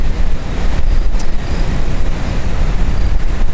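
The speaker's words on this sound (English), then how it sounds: "Been a fair amount of wind today in the afternoon down here" Strong wind buffets the microphone during a motorcycle ride through the mountains of Southern California near Angeles National Forest, a continuous loud broadband roar with gusty swells and no voices.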